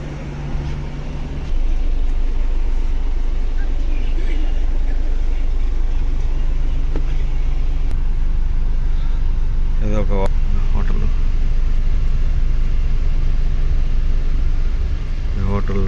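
Inside an intercity bus between Bengaluru and Hyderabad, a constant low engine and road rumble drones on, rising a notch after the first couple of seconds, with brief voices in the background.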